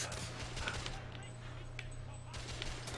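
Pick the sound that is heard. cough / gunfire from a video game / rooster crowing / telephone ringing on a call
gunfire from a video game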